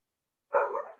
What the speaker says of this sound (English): Sorry, I'm not sure if you can hear all the dogs barking.